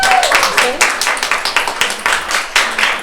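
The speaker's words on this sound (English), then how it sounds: "Round of applause for you." Small audience at an art exhibition in Oslo gives rhythmic, fairly close applause with individual claps audible, while a voice talks over it.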